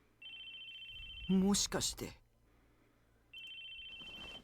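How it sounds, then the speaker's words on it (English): Electronic cell phone ringtone in the game Chaos;Head Noah, a thin steady tone sounding in two separate bursts, broken off in the middle by a short spoken line. "It was the sound of a phone ringing, but whose was it?"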